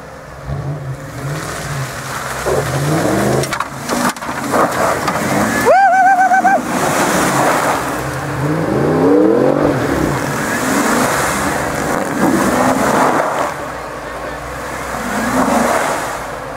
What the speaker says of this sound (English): Now Scott's gonna try it in four-wheel drive instead of two